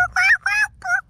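A child imitates a chicken with three quick, high-pitched clucking syllables in a short burst, close and fairly loud over a quiet background.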